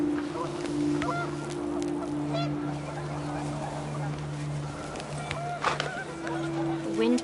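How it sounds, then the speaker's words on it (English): Panicked geese honking in the video game What Remains of Edith Finch, repeated honks and calls over a steady droning hum and wind, with a voice speaking faintly beneath. "The wind picked up and panicked geese appeared and quickly went"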